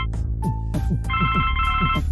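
Telephone ringing in The Blackwell Legacy video game, a repeating electronic ring heard in several bursts over a steady game music background, loud and close with no talk.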